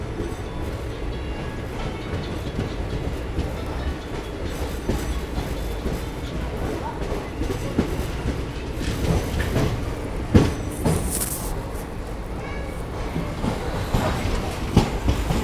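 Kakinada Town–Mysore express train at Nalgonda railway station, a steady loud rumble of rolling carriages with rhythmic clickety-clack over the rails, continuous throughout with a few sharper clanks near the middle.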